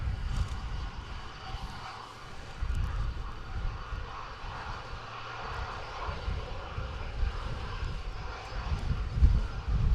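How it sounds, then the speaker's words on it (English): A Turkish Airlines Airbus A330 lands at Manchester Airport in wind and rain, its engines a distant, continuous rumbling roar over broad background noise, with no voices. "Turkish Airlines special livery on the A330 here."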